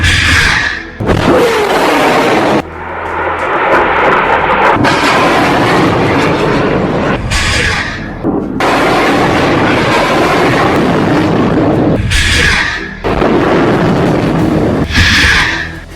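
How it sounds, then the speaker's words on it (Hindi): Hamas rockets launched one after another, a series of loud close roaring whooshes and blasts that each rise sharply and sustain, broken by brief quieter gaps. "एक के बाद एक हमास 10 रॉकेट फायर करता है।"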